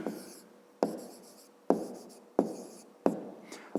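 Pen or pencil writing by hand while math working is written out, heard as a steady series of short scratchy strokes with a sharp tap roughly every second, quiet and close, with no speech.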